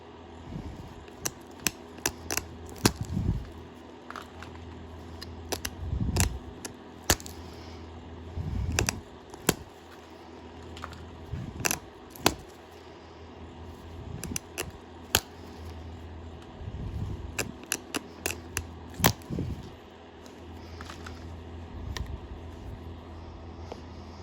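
A stone arrowhead being pressure flaked with an antler tool, producing sharp isolated clicks and small crunching snaps at irregular intervals over a low background hum, close up.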